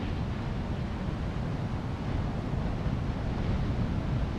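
Ocean surf rolls in as a set of waves breaks on a sunny day, a steady broadband wash of water thick with wind rumbling across the microphone and no clear individual crashes.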